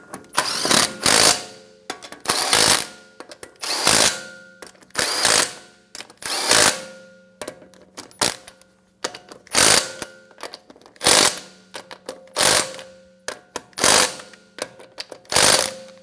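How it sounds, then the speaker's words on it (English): Ratchet wrench snugging down lug nuts on a 2013-2017 Honda Accord wheel, heard as repeated bursts of close, loud metallic clicking spaced a second or two apart, with short pauses between strokes and no talking. "Get your lug nuts started. Snug them down."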